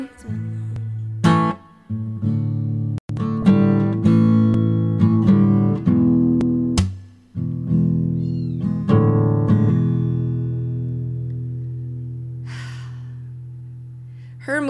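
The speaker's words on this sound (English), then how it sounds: "Her moving the kittens into the studio under my desk" Mother cat moving her kittens into a studio, a loud tonal meow-like cry held with breaks over background music, close and dominant throughout.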